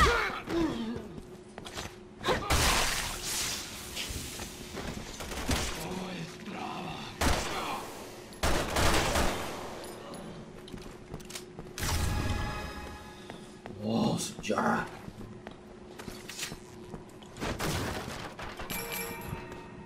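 Gunfire in the video game Resident Evil 6, sharp loud shots in irregular bursts mixed with heavy thuds, slams and mechanical clatter, with a voice talking at times between them.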